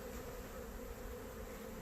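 A faint, steady buzz of bees around a hive, low and continuous with no voices over it.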